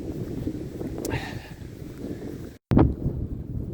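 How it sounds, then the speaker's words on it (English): Strong wind sweeps across a hilltop ridge near the peak on a long countryside walk, roaring and buffeting the microphone steadily, with a brief moment of sudden silence midway. "That's why it's super windy."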